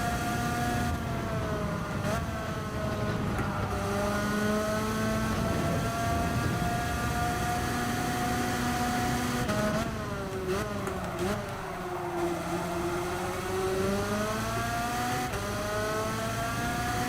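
Race car engine in the Gran Turismo 7 racing game, loud sustained high revs with a sharp rev drop around a double downshift midway, then climbing again as the car accelerates out.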